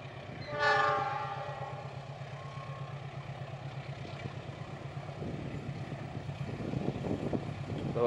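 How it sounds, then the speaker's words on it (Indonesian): The Argo Wilis passenger train rolls past in rural Indonesian rice fields at dusk, a short horn blast up front, then a steady rumble of wheels and carriages that grows heavier toward the end. "Nah, ini dia kereta api Argo Wilis ya."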